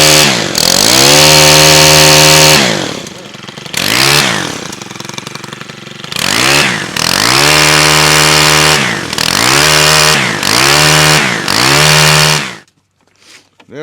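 A Stihl HT 105 pole saw's small two-stroke engine revving hard close by, repeatedly rising to a loud buzzing whine and dropping back, before cutting off abruptly at the end.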